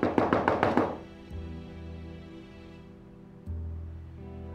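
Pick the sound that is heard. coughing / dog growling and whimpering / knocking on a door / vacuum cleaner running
knocking on a door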